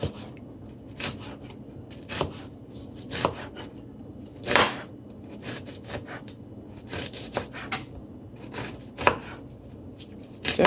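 A knife chops an onion on a board, with irregular sharp close taps spaced about a second apart over quiet scraping and rustle.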